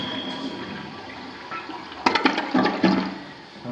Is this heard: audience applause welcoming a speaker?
no